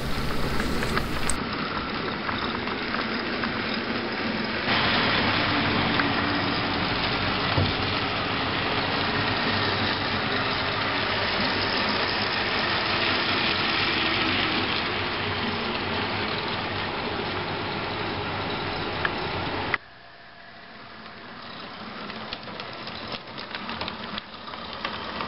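An HO scale model helper locomotive on a DC layout runs back into town with a steady, dense motor whir and rolling rumble that holds loud and even for most of the time, then drops away abruptly near the end.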